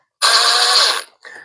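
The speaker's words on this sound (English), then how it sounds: "I wouldn't use a impact drill, but for the sake of the video, I'll just gently nip those up" A cordless impact drill gives a short burst of about a second on the screws of a CycleKart rear axle, then a briefer second whirr. Both are close and loud.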